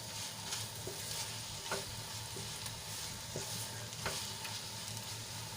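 Okra mixed with spice masala cooks in a pan, giving a steady, moderate sizzle broken by occasional scrapes and clicks of stirring, with no voices.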